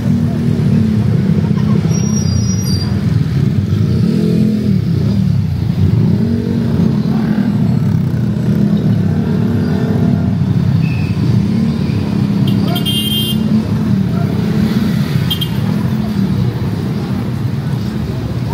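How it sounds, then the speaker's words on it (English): Busy street traffic rumbles along Fields Avenue in Angeles City on a rainy Saturday night, with engines and motorbikes droning continuously up close while voices and crowd chatter mix in underneath. "traffic always in Fields Avenue."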